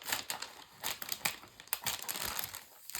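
A laminate sheet is cut from a long roll, giving quiet crinkling and crisp snipping bursts in an irregular rhythm, close and soft with no voices.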